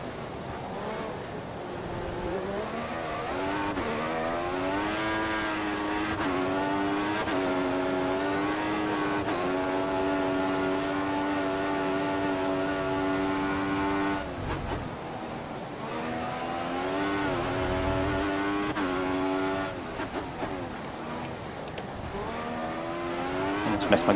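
A Formula One car engine in the racing game F1 2014 at the United States GP, whining up and down through repeated gear shifts with rising and falling revs, loud and continuous, with no talking.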